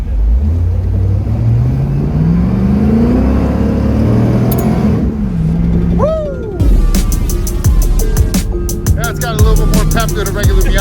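A V8-swapped Mazda Miata idles low and loud close by, then its engine revs and rises in pitch with sharp bursts, under faint background talk.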